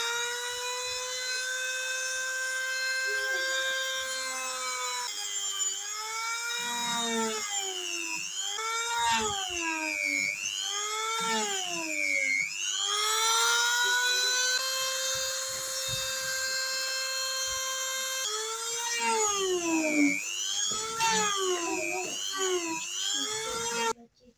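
An angle grinder cutting holes in a wooden ATR 42-500 aircraft model gives a loud, close, high whine that repeatedly dips and recovers in pitch as the disc bites into the wood, running almost continuously for over twenty seconds.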